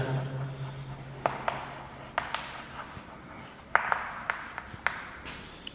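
Chalk or marker strokes on a classroom board tap and scrape in short, irregular bursts, close and fairly quiet, with a low background hum and no talking.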